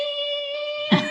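A voice imitates the grating, nasal whine of the most annoying noise from Dumb and Dumber, one sustained buzzing tone held steady for about a second before breaking off with a short rough burst at the end.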